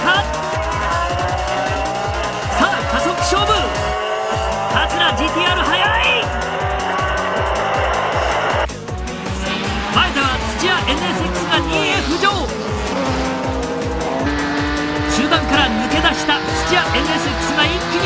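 Japanese GT race cars, a Nissan Silvia and a Honda NSX on wide tyres, brake hard into a corner on a damp track in 1995, engines roaring loud and close with squealing tyres and gear changes, under excited race commentary.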